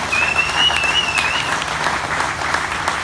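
Steady crowd applause at a renewable fuel standard rally at the 2018 Farm Progress Show, a dense continuous clatter of many hands clapping throughout, with a thin whistle rising briefly near the start.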